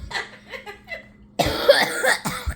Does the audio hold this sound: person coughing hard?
yes